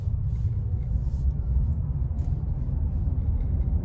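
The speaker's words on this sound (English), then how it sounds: "there's not a whole lot of road noise yet, especially with these tires" Low, steady road rumble inside a lifted Toyota RAV4 on new tires with a 2-inch spacer lift kit, an even droning hum that holds fairly constant throughout with no talking.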